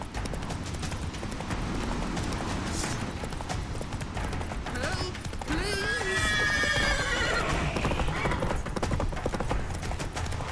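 Roach, a horse in The Witcher 3 video game, neighs and whinnies amid rhythmic galloping hoofbeats and busy combat sounds, with a loud whinny rising near the middle of the clip.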